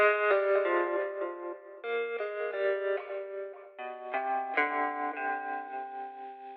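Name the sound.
jazz guitar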